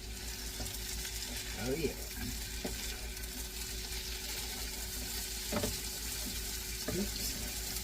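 Potatoes O'Brien with corn and peas sizzle steadily in a frying pan, with a few scraping stirs of a utensil cutting through the constant crackle and a brief spoken word.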